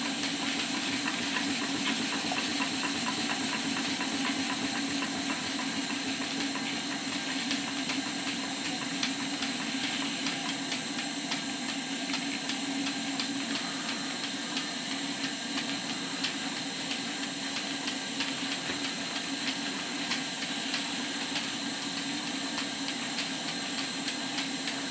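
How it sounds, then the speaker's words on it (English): A small model steam beam engine runs steadily on a kitchen table with a continuous hiss and soft rhythmic chuffing, close up and without any talking. "cylinder soon warms up and the engine starts to run on very little pressure"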